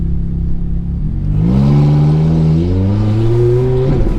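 Ferrari F430 pulling away from a standstill, engine idling steadily before the revs climb smoothly in a single rising pull with a clear gear-like harmonic sweep, close and loud.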